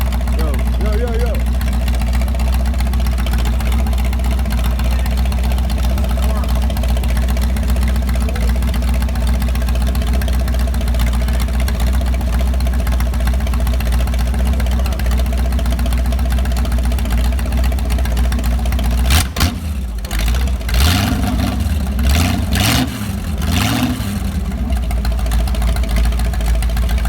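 A 60-year-old GM Corvette V8 engine idles loudly and close up with a steady low rumble, broken by a few rough bursts and bumps near the end.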